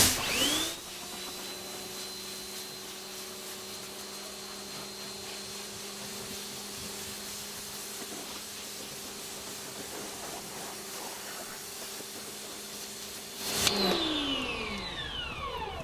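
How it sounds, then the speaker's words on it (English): Close, steady hiss of a water spray rinsing down a car, running continuously for about thirteen seconds over a tonal mechanical whine from the pressure washer, then cutting off abruptly as the whine winds down. "Step number one is you have to obviously rinse the car down"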